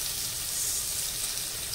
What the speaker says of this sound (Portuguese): a fritura das nossas carnes.